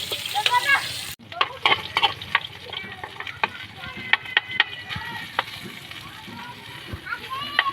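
Ginger sautéing in a pan, with frying crackle and stirring scrapes going on throughout; children's voices and chatter are heard intermittently in the background of a home kitchen.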